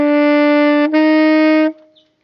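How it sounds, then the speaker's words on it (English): Reed woodwind sounding two successive notes, each cleanly tongued with a brief break between, held steady and loud before stopping, alone with no talking. "If I tongued all of them, it would sound like this."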